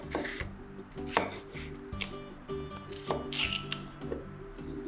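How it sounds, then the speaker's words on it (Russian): Knife slicing bell pepper into strips on a board, a string of crisp chops and taps at an uneven rhythm, close and clear over faint background music. "И нарезаем перец сначала соломкой."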